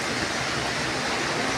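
Heavy monsoon rain falls during flooding near the Quirino LRT station in Manila, a dense, even rushing hiss with no pauses, moderately loud and steady throughout the brief stretch.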